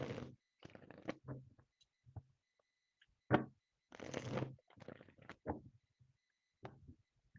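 Tarot cards being given a good shuffle by hand, close papery riffles and flicks in short uneven bursts separated by brief silences, with no voices.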